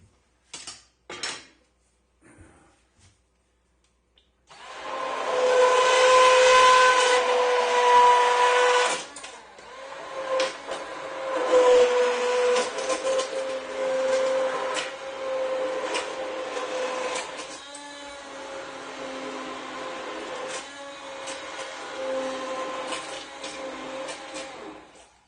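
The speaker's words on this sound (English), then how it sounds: "I'm going to do a little bit more blending" An immersion blender whirs through a creamy carrot and tomato soup in a pot, starting after a few quiet clicks and knocks, a loud steady motor drone that then wavers and scrapes as the blade moves through the soup.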